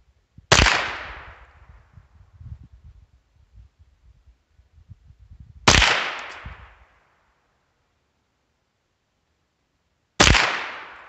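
Three sharp rifle gunshots firing Armscor rounds from a Savage 62F or Ruger, spaced several seconds apart, each a loud crack with a brief decaying echo, and soft rustling between the first two.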